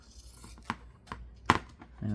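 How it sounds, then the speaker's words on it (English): Pinking shears snip through fabric from an old T-shirt in a few distinct crisp cuts, spaced unevenly and close by, with quiet pauses between them. "This is a great job for pinking shears."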